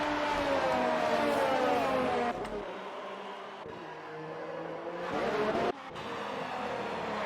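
F1 race cars in an Xbox racing game whine past at high revs, the engine note shifting through gear changes with brief drops, steady and fairly loud, no voices.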